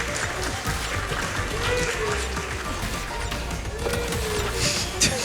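At a Summer Games Done Quick speedrun of Crash Bandicoot 4, a crowd applauds and cheers loudly and continuously, mixed with game sounds and a voice talking over it.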